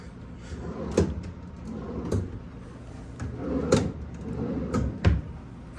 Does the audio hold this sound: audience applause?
no